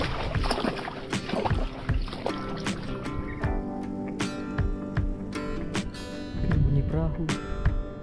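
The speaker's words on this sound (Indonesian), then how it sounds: "Bunyi perahu." Small fishing boat passing on the water near a mangrove shore, an irregular engine chug with splashes and knocks close by, varying in loudness throughout, with no talking.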